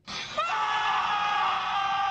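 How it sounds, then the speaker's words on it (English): A drawn-out, high scream sound effect from the film Raising Arizona erupts suddenly and holds loud and steady for about two seconds, alone without any talk. "he'll have the Raising Arizona scream"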